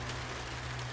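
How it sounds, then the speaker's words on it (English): Heavy rain falling: a dense, steady hiss of downpour, close and even throughout, with no voices. "The rain was coming down heavier again"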